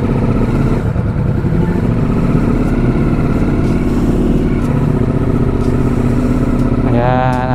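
A motorcycle engine runs steadily after being jump-started, a loud, close, continuous idle with a rough pulsing texture, and a brief rising whine near the end.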